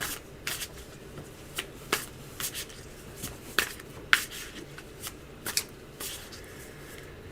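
Tarot cards are shuffled by hand close to the mic, a series of crisp riffling bursts and soft slaps at irregular intervals over a quiet room, with no talking.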